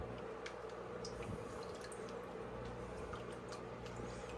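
Liquid poured into a reef aquarium makes a steady trickling, dripping splash that runs continuously, close and moderately quiet, with no talking.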